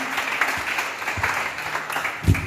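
A church congregation applauds in praise with continuous, moderately loud clapping that has an uneven rhythm, plus a few louder claps near the end.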